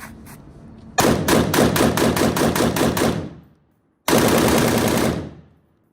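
G3 assault rifle firing outdoors, first a few single shots, then two long full-auto bursts of loud rapid cracks, each burst trailing off into echo, with no talking.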